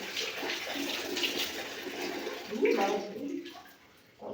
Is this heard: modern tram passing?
no